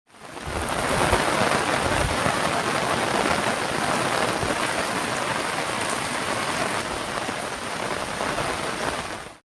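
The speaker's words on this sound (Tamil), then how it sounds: "நேற்றிரவு பலத்த காற்றுடன் மழை கொட்டியது" Heavy rain driven by strong wind pours down at night in a dense, unbroken hiss that stays loud and even throughout, with no voices.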